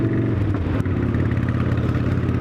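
A motorcycle is ridden while cruising, and a loud, steady engine drone rumbles close and continuously, with no speech.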